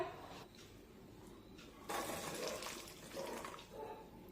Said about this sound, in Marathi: आता हे मटार लगेचच या गरम पाण्यातून बाहेर काढून घेऊया।